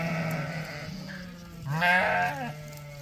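Heritage-breed ewes and lambs bleating in a pen, a wavering, nasal bleat rising loudly near the middle over a low steady background hum, with fainter calls around it.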